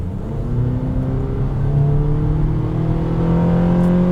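A 2017 Honda Accord Sport engine revving above 5,000 RPM, heard as a steady, sustained rising drone with a whirring harmonic tone, loud and close from inside the car, with no talking.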